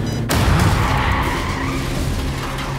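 Car tires skid in the TV series Squid Game, a loud, close screech that follows a sharp thump and holds as a sustained squeal with engine rumble beneath.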